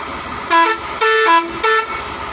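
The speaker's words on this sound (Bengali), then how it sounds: "হরেন দাও," A car horn honks three times in short bursts during a driving lesson, loud and close, the middle toot longest, with engine hum underneath.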